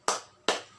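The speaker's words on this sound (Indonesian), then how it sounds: "Yuk sama-sama kita tepuk semangat dulu" Two sharp hand claps about 0.4 seconds apart, close and fairly loud, made as a class cheer in an online third-grade elementary lesson at home.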